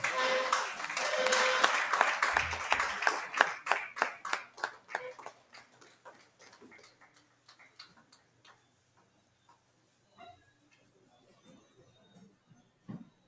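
Audience applause at a Nigerian Institute of Town Planners chapter event in Oyo State, a burst of dense clapping that starts loud and thins into scattered claps fading out over several seconds.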